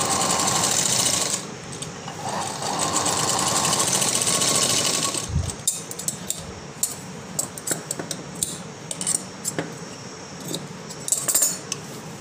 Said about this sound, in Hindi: उसके बाद फिर से कपड़े को फिराकर सिलाई लेना है